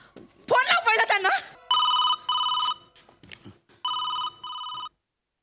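After a burst of lively talk, a telephone rings on a call in four bright electronic double bursts separated by short pauses, loud and clear.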